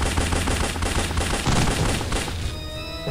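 Rapid, continuous gunfire from the top-down shooter game Larva Mortus, loud dense bursts of shots running nearly the whole time and easing off into a ringing tail at the end.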